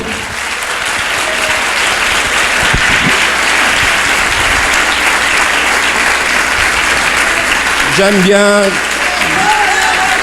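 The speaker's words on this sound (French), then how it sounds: "Alguém pode aplaudir mais forte o Senhor?" A church congregation at a worship gathering applauds loudly and continuously for several seconds, a dense wash of clapping with a brief voice cutting through near the end.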